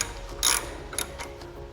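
A ratchet clicking as it loosens the brake caliper bolts on a Harley motorcycle, a few short close metallic bursts with pauses between, no talking.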